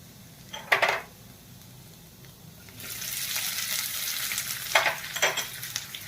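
Chopped onion hits a pan of frying ginger and garlic, setting off a continuous hissing sizzle partway through, with brief utensil clinks against the pan before and during the frying.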